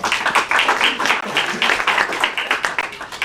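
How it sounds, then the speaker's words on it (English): An audience at a high school awards ceremony claps steadily for a few seconds, a dense, continuous patter of many hands with no talking over it. "You had more clapping."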